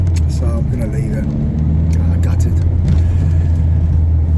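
A car drives along the road with a steady, loud low engine and road rumble filling the whole stretch, while a voice talks over it.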